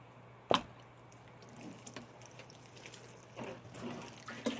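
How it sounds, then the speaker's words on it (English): Water poured into a dirt mixture for a homemade greenhouse, starting with a sharp splash and followed by soft wet trickles and dribbles, close and fairly quiet. "I'm going to add a little bit more water."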